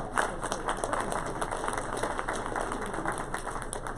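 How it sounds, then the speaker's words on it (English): Audience applause at a campus public-safety event, a steady wash of many hands clapping at moderate volume, sustained without pause and with no speech on top. "can we get a round of applause for Dr. Spina, Provost Benson, and Steve"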